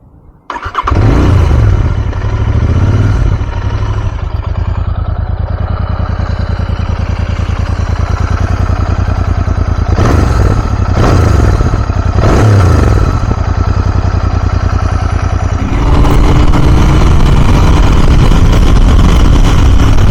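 A Royal Enfield Continental GT 650 motorcycle starts up and runs loud and close, its engine idling steadily with a few blips of the throttle and a rise in revs near the end.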